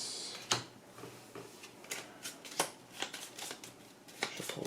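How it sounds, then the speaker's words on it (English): A discard pile of playing cards shuffled during a Gloomhaven: Jaws of the Lion board game session, heard as quiet, close card slides, flicks and taps in an irregular rhythm, with no talk. "Shuffle the discard."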